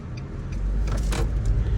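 A car shifted into drive rolls off with a steady low road rumble and engine hum, plus a few brief higher whooshes and rattles.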